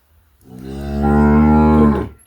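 A dairy cow for sale on a farm in Chüy Region near Kara-Balta, having calved four times, lets out a single long, loud, close moo that swells and then fades, with no other sound.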